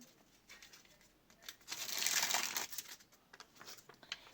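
A large paper surprise packet from a Poppy Playtime 4 collection, the biggest in the set, is handled and unwrapped. Soft rustles build into a dense, close crinkling burst in the middle, then ease off into scattered crackles.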